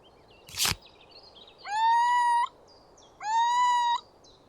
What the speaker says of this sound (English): Little owl.